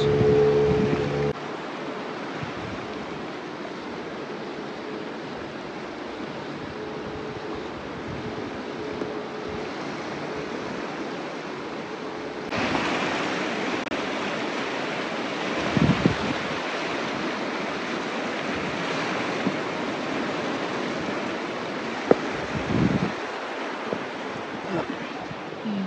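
Steady wind gusts and rushing water near the Copper River at Chitina, Alaska, during cliff salmon fishing, a continuous broadband roar with a few brief bumps and louder stretches, no speech.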